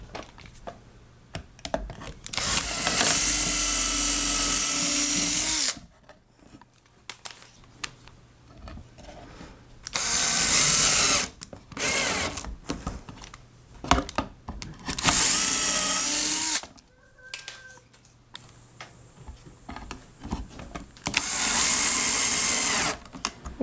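Power drill driving screws into a vacuum cleaner motor assembly: four loud whirring bursts of a few seconds each, separated by quiet pauses, with no talking.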